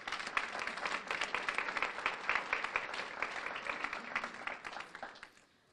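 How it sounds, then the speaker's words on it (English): Audience applause at a city beautification awards ceremony: sustained, dense clapping from a sizable crowd that holds steady for several seconds, then tapers off and fades out near the end. "Please join me in applauding the accomplishments in the category of offices."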